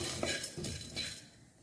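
Dry stirring and scraping of horse gram and spices being dry-roasted in a pan, with spoon clinks and a light sizzle-like rattle, close and steady.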